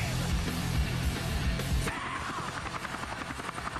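A helicopter in the skateboarding video game Tony Hawk's Underground, its low rotor thrum heavy at first, then a rhythmic chopping pulse continuing alongside game effects.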